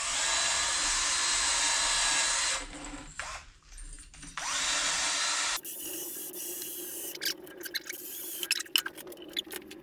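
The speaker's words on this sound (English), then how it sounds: "I'm just going to use a wire brush, and this will help me get in between the fins" A wire brush scrubs between the cooling fins of a Kawasaki F11 engine cylinder, making a loud, continuous scratchy rasp that breaks off briefly and resumes in shorter strokes.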